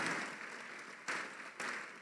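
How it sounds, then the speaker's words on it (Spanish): Congregation applause during a Christian church service, soft and somewhat distant, a steady clapping wash with two fresh swells, no talking over it. "Un aplauso entonces por esa invitada."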